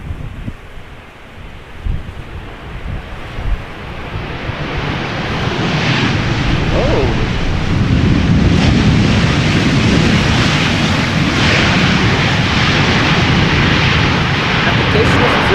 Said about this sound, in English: The next airplane already about to touch down.